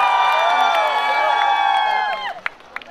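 A large outdoor audience at a Miss Trot celebration concert for Jindo County Day cheers and shouts in one long, sustained roar that cuts off abruptly, followed by a few scattered claps and whoops.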